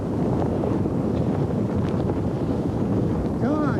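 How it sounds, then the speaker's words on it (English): A strong 100-mph wind with gusts toward 120 roars continuously past the microphone in icy conditions, a dense buffeting rush, with a brief voice cutting in at the end. "the wind is now blowing at 100 miles per hour with gusts up to 120"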